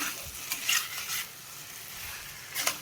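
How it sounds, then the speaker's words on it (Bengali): Aloo dum, a potato curry, being stirred and sautéed in a pan, with soft sizzling under a few distinct scraping and clinking stirs of a utensil against the metal. "আলুর দমটাকে কষাচ্ছি"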